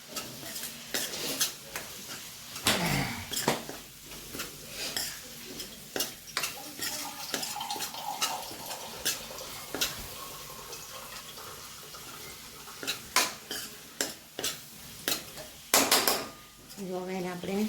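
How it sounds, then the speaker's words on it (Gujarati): Gujarati baingan bharta with Kashmiri red chilli and garam masala is stirred in a pan: repeated sharp scrapes and clinks of a spoon against metal over a soft sizzle, irregular and close. "અને હવે આપણે એને હલાવીને"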